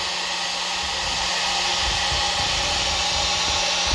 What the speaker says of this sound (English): So I'm using the heat gun today, got it sitting on its back, got the smallest nozzle on